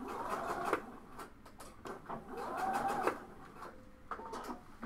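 A sewing machine runs a back stitch at the end of a seam on a blouse, with quiet, steady mechanical stitching in short runs broken by brief pauses and taps.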